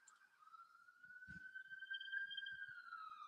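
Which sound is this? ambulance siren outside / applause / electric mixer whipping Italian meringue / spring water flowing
ambulance siren outside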